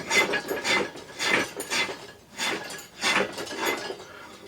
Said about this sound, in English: Just spinning it by hand. Just holding the nut up.